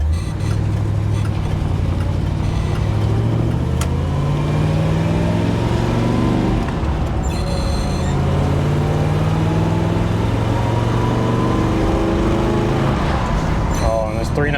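A 1967 Impala SS with a 396 big block engine and Muncie 4-speed drives along, its deep engine tone rising and falling through gear changes, steady and close, with someone talking over it.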